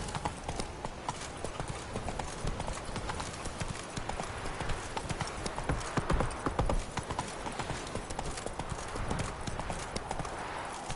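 The horse Roach trots along in a video game, a steady, brisk clip-clop of hooves that carries on throughout, with a voice now and then over it.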